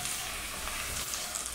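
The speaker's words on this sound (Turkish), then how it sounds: "Patateslerimi biraz kavurarak pişirdim." Potatoes frying in a pan for Turkish lepe pilaf give off a steady, even sizzle, soft and continuous with fine crackling, no voices over it.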